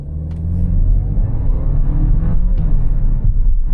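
An Audi A5 sedan with quattro accelerates hard, its engine a loud, close, deep rumble that builds steadily and stays strong throughout.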